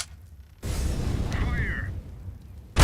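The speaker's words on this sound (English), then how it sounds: "Throw in a flashbang." A flashbang grenade bursts during a Counter-Strike match at a major grand final, a sudden broadband blast that holds briefly and then gives way to a thin ringing whine.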